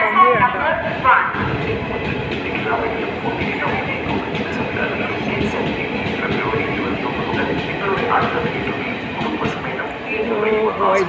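A Vande Bharat Express train pulls into platform 1 at Thrissur railway station, its steady loud rumble and wheel clatter filling the scene as people talk nearby.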